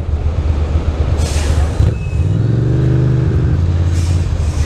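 Heavy truck traffic on a congested commute, with loud engine rumble, a sharp hiss of air brakes releasing, and a low droning idle that swells and settles in close range.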